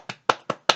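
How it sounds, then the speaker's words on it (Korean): Four crisp hand claps ring out close and clear in an even, slightly quick rhythm, each one sharp and separated by brief silence. "박수 쳐드릴게"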